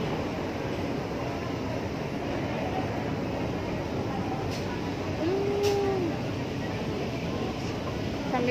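Steady rumble of a metro train running, a continuous low roar with a brief rising tone partway through and faint clicks overhead.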